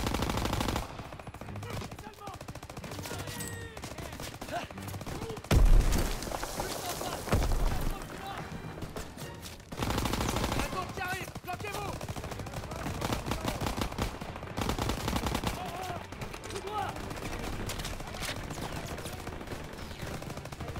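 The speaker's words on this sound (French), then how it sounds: "Préparez-vous à tirer." Bursts of machine-gun and rifle fire in the World War II shooter Call of Duty WWII, rapid rattling volleys continuing throughout under a dense game soundtrack, with occasional voices mixed in.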